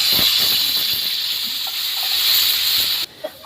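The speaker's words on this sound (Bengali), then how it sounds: "এবার পরিমাণ মতো জল দিয়ে দেবো" Water poured into a hot pan of koi fish curry, a steady loud hiss of steam and sizzling rising from the pan with faint stirring clinks, cutting off abruptly near the end.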